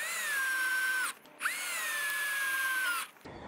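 Power drill driving short screws into a wire crate garden cart, a steady high motor whine running about a second, a brief pause, then a second longer run that cuts off, close and alone.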